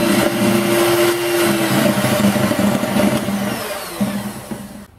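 An electric hand mixer beating eggs for a cheese and onion loaf, a steady loud motor whine with a rattling buzz that runs for several seconds, then cuts off abruptly at the end.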